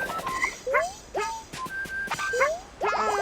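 A whistle in a Yoshi video game plays a quick series of short, bright, upward-sliding toots and chirps, fairly close and clear.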